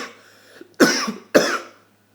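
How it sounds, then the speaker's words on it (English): A man coughs twice in quick succession, close and loud, each a sharp burst that trails off, followed by quiet. "sorry for my coughing there."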